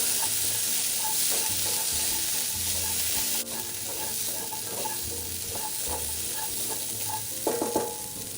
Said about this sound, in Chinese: 接下來，預先備好的芋頭也一起加入炒香。